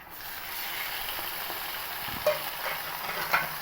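Chicken liver with ginger garlic paste frying in a pan, a steady continuous sizzle with a couple of brief clinks or stirring knocks.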